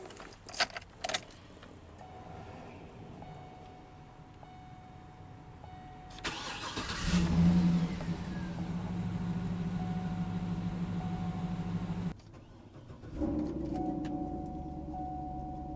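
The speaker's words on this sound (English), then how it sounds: "let's go ahead and start that engine" Keys jingle briefly, then the engine of a 2008 Cadillac Escalade ESV AWD cranks and catches, settling into a steady low idle that drops out and restarts near the end.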